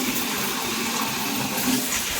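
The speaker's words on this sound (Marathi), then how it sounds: "पाण्याने चांगली स्वच्छ धुवून घ्यायची।" Sorghum grains are washed in water for jowar idli, producing a steady, loud, continuous sloshing and running-water wash with no breaks or talk.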